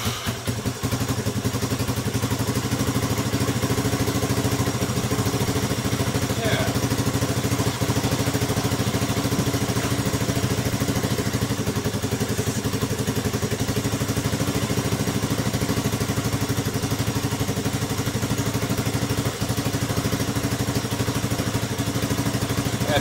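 A 1985 Yamaha YTM225 three-wheeler engine runs steadily up close, a continuous mid-pitched drone with slight clatter and small throttle changes and no speech.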